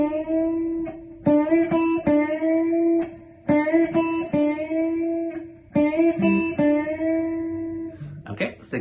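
An electric guitar plays a short lick with whole-step string bends, picked notes rising into bent pitches in repeated phrases, close and clear with brief pauses between them.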